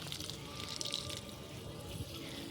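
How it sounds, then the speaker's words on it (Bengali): Flower plants are watered, with a steady, soft splash and trickle of flowing water, faint and continuous, without talk. "এই দেখো এই ফুলের গাছ জল দিচ্ছে"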